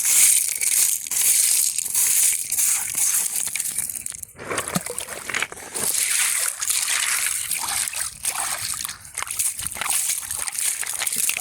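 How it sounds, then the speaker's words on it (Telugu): Krishna River water sloshes and splashes over small stones and gravel in uneven bursts, with crunching, crackling texture throughout and a couple of brief pauses. "ఆ సన్న సన్న రాళ్ళ మీదకి ఇట్లా నీళ్ళు చిమ్మటం వల్ల"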